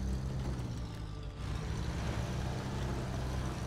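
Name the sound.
truck engine noises in the video game SnowRunner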